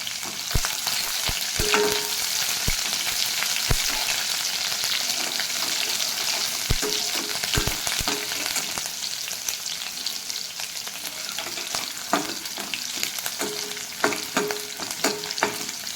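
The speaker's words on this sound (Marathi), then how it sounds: "आणि कांदा टाकून घेते. कांदा थोडा गोल्डन ब्राऊन होऊन घेते." Onion, curry leaves and green chillies fry in hot oil for a Marathi brinjal bharit, a steady loud sizzle with occasional sharp crackles and spatters, close and continuous.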